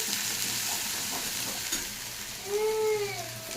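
Ground spices with salt, cumin, chili and turmeric fry in a pan, giving a continuous close sizzle with stirring scrapes and a brief squeaky scrape near the end.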